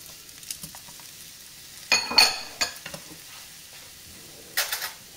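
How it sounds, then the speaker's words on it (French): Onions and shallot sautéing in a mix of butter and oil for a goat cheese and cherry tomato quiche, heard as a soft low sizzle broken by a few louder stirring scrapes and clatters close by. "j'ai mis un peu d'huile, je vais faire revenir la totalité. Hop, mes oignons,"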